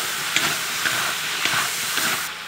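Potatoes hit a hot pan with dried chili, soy sauce, salt, Sichuan pepper and star anise powder, giving a steady close steamy hiss and sizzle punctuated by faint stirring clicks.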